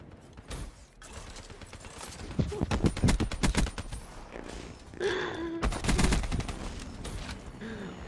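Rapid automatic gunfire from Call of Duty Black Ops 3 on the Nuketown map crackles in loud bursts, with sharp single shots and mechanical clatter between volleys and a voice speaking briefly.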